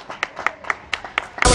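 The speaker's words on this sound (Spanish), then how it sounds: "Fuerte aplauso." Sparse, distinct handclaps from a few people at an urban arts festival, spaced irregular claps close by, ending in a sudden loud burst of noise.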